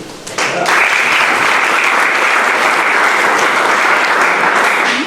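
An audience at an awards ceremony breaks into loud, sustained applause, a dense wash of clapping from many hands that fills the room and holds steady for several seconds.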